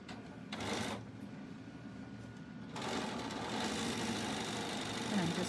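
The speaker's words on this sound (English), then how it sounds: "I'm just going to sew that quarter inch seam again" A sewing machine runs a quarter-inch seam through quilting fabric with selvages, a steady close mechanical whir that starts briefly, pauses, then runs continuously for the last few seconds.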